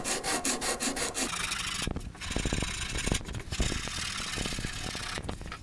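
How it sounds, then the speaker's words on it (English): Steady scratchy rasping of an 80 grit sanding pad rubbed back and forth over a wooden ES 335 guitar neck, close up, with brief pauses between strokes. "I've got an 80 grit pad, and I'm just going to kind of smooth everything in nicely with that"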